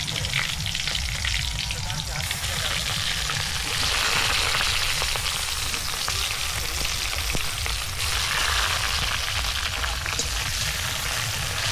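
Meat being fried and stirred in a pan at an outdoor picnic, a loud, dense continuous sizzle with bursts of hissing and occasional scraping, close up.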